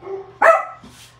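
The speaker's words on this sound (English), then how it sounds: "Rude dogs." A dog gives one sharp, loud bark close by indoors, with a softer yip or whine just before it and a brief fading tail after. No voices are heard.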